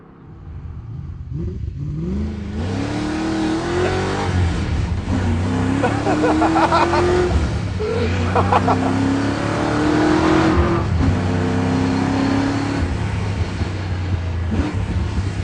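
A rough, scruffy Mazda RX7 hot rod's rotary engine revs loudly and repeatedly up close, rising pitch sweeps climbing and falling over a steady idle across the whole stretch.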